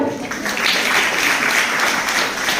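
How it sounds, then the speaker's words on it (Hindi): Applause from an audience of students at a women's college ceremony introducing newly formed student council officers; a continuous, even clatter of many hands holds steady throughout at moderate loudness. "तालियां बजती रहनी चाहिए इन छात्राओं के उत्साहवर्धन के लिए"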